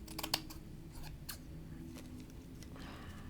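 Scissors snipping Dollar Tree deco mesh for a Christmas wreath, a quick cluster of crisp close cuts at the start followed by a few softer snips over a steady low background hum.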